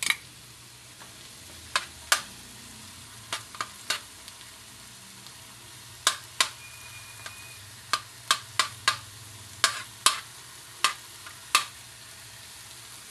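Garlic sautéing in a pan for chicken steak, a steady quiet sizzle with scattered sharp ticks and pops spread unevenly across the clip, no talking.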